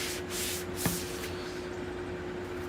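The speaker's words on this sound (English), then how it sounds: "You spray it right on top of CREATEX as long as it's dried." Mild cleaner sprayed from a bottle onto dried Createx airbrush paint on a skull piece: a few soft hissing bursts at the start, then quiet with a faint steady hum and a small tap.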